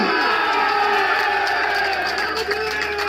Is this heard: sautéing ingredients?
no